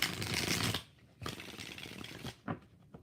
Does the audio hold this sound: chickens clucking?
no